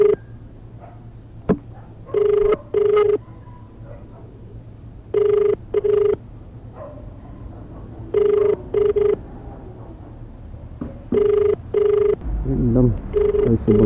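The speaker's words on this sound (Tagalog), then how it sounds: "Dito na, tatawagan muna natin si customer." A phone line rings back while a driver calls a customer from a pick-up location, with four evenly spaced double ring tones over a quiet background, followed by a voice at the end.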